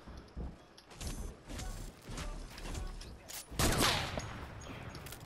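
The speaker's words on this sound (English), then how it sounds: "I think I know where Josh is shooting from." Fortnite video game gunfire: scattered shots and bursts at moderate distance, irregular and fairly faint, with brief louder cracks near the end and little talk.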